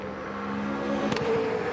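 A V8 Supercar race car during 2011 Bathurst 1000 practice at Mount Panorama accelerates up Mountain Straight, its engine a loud, steady droning roar that rises slightly in intensity, heard from close by as from onboard.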